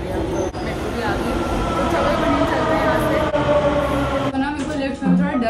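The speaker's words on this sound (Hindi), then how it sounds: "मेट्रो भी आ गई" A Delhi metro train pulling into a station, a loud continuous rumble with rising tonal whine and rattling of the cars, a few clicks and a brief squeal near the end, with faint voices in the background.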